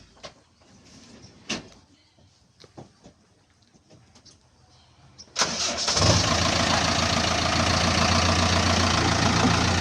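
JCB 3DX backhoe loader diesel engine cranking and firing into a steady loud running roar after a few quiet knocks and clicks, close by with no talk.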